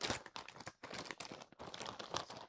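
A bag of sewing zippers is grabbed and handled, giving a steady run of close crinkling and crunching plastic rustles, with two short pauses.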